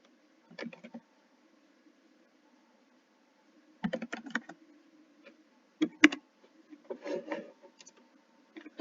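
Bursts of computer keyboard typing, a short flurry of keystrokes then longer runs of clicks with quiet pauses between, close and clear with no talking.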